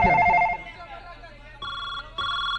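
An electronic phone ringtone plays in two steady bursts, each lasting under half a second, following a brief clatter of background noise.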